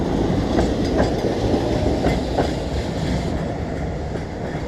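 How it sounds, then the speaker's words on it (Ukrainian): A tram rolls past on rails in Dnipro, Ukraine, with a steady rumble and faint rhythmic clacks, fairly close and loud. "Я побачив трамвай."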